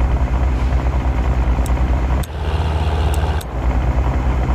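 A V6 engine in the mobile driving game Car Parking runs with a deep, steady low drone and rumble, loud and continuous, with a brief dip in the middle and a couple of faint high clicks.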